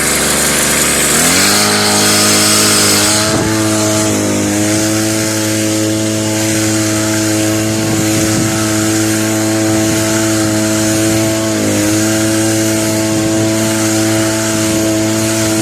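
A small motorized crop sprayer engine runs steadily and close while spraying chemicals on a clover field. Its tone shifts upward after starting and stays as a constant buzzing drone with slight changes in pitch throughout.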